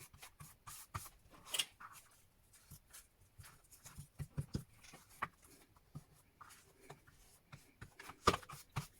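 A fingernail rubs across freshly glued paper to press it flat, giving faint, dry scratching strokes in short repeated bursts, quiet and close, with no talking.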